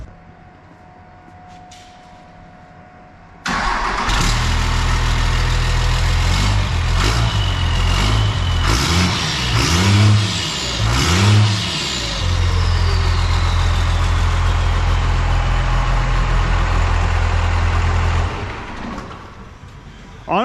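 A second-gen truck fitted with a new exhaust and resonator starts and settles into a deep, throaty idle with a few revs in the middle, loud and close, then shuts off.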